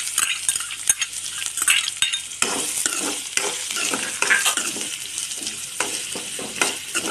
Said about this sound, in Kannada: ಆನಿಯನ್ನ ಸ್ವಲ್ಪ ಜಾಸ್ತಿ ಈ ರೀತಿ ಫ್ರೈ ಮಾಡ್ಕೋಬೇಕು